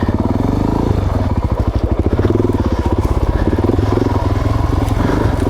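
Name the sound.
Suzuki DRZ 400 dual sport motorcycle riding single track trail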